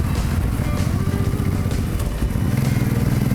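A motorcycle rides slowly past rural villages, a loud close continuous engine rumble with steady low throbbing and wind noise throughout.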